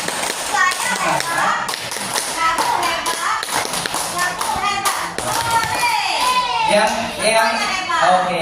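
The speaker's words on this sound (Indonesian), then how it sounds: "Tepuk hebat." A classroom group performs the rhythmic 'tepuk hebat' clapping chant, sharp patterned claps set against children's chanting voices throughout, loud and close.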